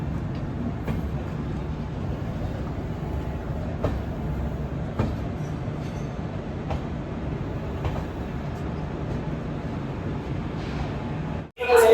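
Netaji Express pulling into Kalka station at the end of its run from Howrah, a steady rumbling roll of the carriages with faint rhythmic clicks over rail joints, close and continuous throughout.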